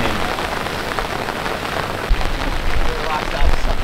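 Torrential rain lashes a beach in a flash flood, a loud, unbroken hiss and patter of drops at close range, punctuated by a couple of heavier thumps.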